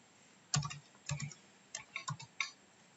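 Search tags are typed on a computer keyboard: a handful of quick, close clicking keystrokes in short bursts over a quiet background, with no speech.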